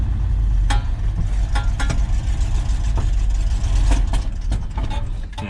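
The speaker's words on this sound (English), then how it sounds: "Yeah, see, she just runs on the idle." A 1973 Ford F-250 engine idles roughly with a sticking choke, a steady loud low rumble with scattered clanks and knocks, cold running in snow, heard alone without talk.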